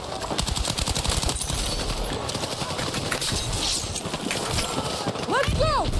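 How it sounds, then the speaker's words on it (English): An M60 light machine gun fires in Battlefield 6 with a rapid, sustained stream of loud, close shots, while voices chatter over the shooting and brief whistling or ricochet-like tones rise near the end. "M60 light machine gun."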